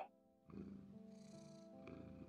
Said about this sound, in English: cat starts to purr right away